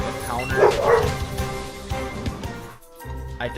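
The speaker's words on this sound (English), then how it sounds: "Dogs!" Several dogs barking and yipping close and loud in a rapid cluster, with whimpers and a brief pause before barking resumes.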